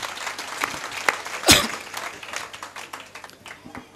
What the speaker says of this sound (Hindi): तालियों से इस रचना के लिए आदेशित करें